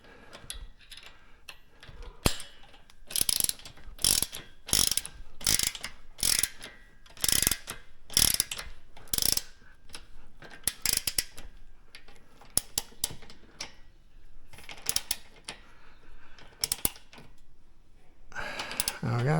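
Ratchet wrench tightening bolts while assembling an Ultra Fuego UF-1186 home gym, giving loud, rapid bursts of clicking in repeated strokes with short pauses, close by, followed by scattered lighter ticks and handling noises.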